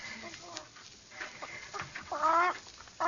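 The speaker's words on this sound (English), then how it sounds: "That's a chicken. She's a fat one." A plump hen held in a woman's hand clucks in short harsh bursts, rising to a louder run of calls near the end over a low background.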